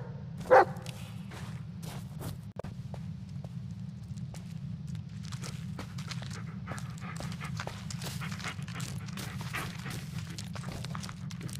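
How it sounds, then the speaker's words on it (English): A dog pants rhythmically and continuously at close range, with a single sharp bark near the start and faint scattered rustles and footfalls around it. "Yeah, good dog."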